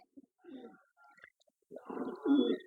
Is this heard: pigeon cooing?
yes